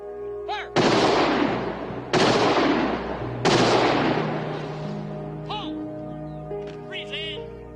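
A firing squad detail fires three rifle volleys, each a loud, sharp crack with a ringing decay, spaced about a second and a half apart, followed by quieter background sounds and faint calls.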